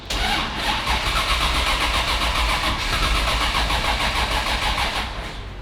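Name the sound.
Porsche GT3 engine cranking, trying to start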